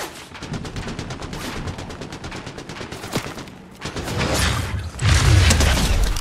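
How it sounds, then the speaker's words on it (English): Rapid gunfire in the Fortnite video game, a dense rattle of repeated shots that swells into heavier, louder bursts and booms toward the end, with no talking. "Are you shooting at me"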